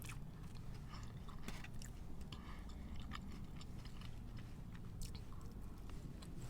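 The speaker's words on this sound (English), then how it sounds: "I'll try a taste of the chips and the cod." Close, crunchy biting and chewing of fish and chips, with soft moist mouth sounds and repeated crisp bites over a steady background hum.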